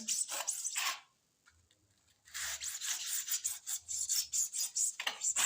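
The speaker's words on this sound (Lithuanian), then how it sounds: "Ir paskui su pjūkliuku paprasčiausiai, va. Dopjauni." A small hand saw finishes a cut on a garage door threshold with quick, rhythmic rasping strokes, close by. A second run of strokes follows a brief silent pause, with no talk.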